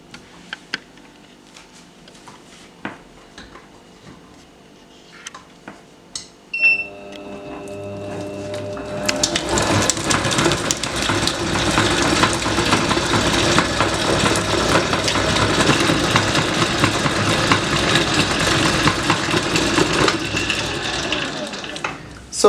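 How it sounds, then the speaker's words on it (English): Butter being whisked for shortbread: a loud, steady whirring starts about midway and runs unbroken to the end, after a quieter stretch of small kitchen clicks and handling sounds. "we're going to be whisking the butter for 2 to 3 minutes."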